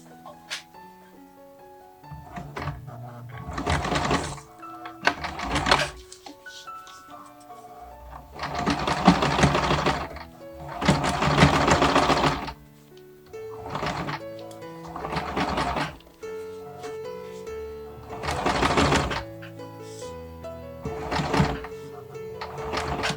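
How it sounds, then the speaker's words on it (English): A sewing machine stitches a vintage Barbie doll dress in several loud bursts of rapid mechanical whirring, separated by pauses with small clicks and handling sounds. "I'm going to sew it down from the back side so I know where I can cover the stitches that I've already made"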